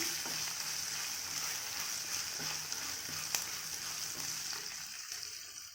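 Turkey berries (sundaikai) sauté in a pan for a village-style thogayal, giving a continuous gentle sizzle with occasional soft stirring knocks, fading slightly toward the end.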